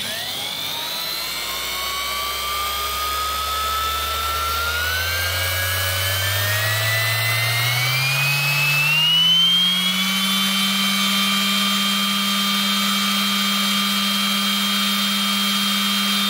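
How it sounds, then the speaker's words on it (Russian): A corded angle grinder runs on a portable power station at its lowest speed setting, its steady whine rising in pitch over several seconds as the motor spins up, then holding an even, loud drone with no talk. "Поэкспериментируем со шлифовальной машинкой, выдает она до 300 ватт."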